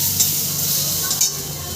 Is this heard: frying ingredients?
yes